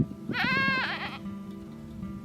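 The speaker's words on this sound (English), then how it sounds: "apprehensive about trying to pass me in order to get to the rest of the mob of goats" A feral goat in the Gawler Ranges bleats once, a short wavering cry at middle distance, set against quiet outdoor background noise.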